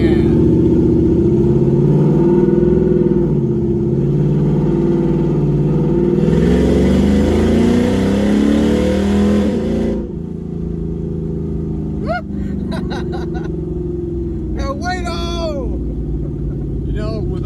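A Ford Mustang GT S550 with nitrous, running on E85, produces a loud, steady engine rumble that swells into a rising rev before settling back to a lower drone, with muffled voices.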